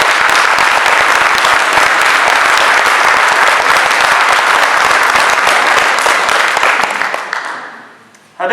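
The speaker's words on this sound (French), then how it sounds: "Je peux les applaudir." Crowd at a municipal election public meeting applauding supporters, loud continuous clapping for several seconds that fades out toward the end.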